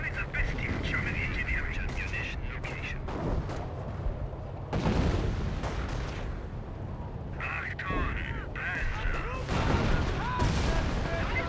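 Artillery barrage in the World War II strategy game Company of Heroes, with machine gun emplacements nearby: repeated booms and bursts of shellfire rolling on continuously, loud and dense, with a commentator's voice running over much of the battle noise.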